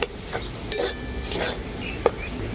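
A ground spice mixture is stirred and sautéed in a pan, with a soft continuous sizzle broken by clinks and scrapes of a utensil against the metal; no voices.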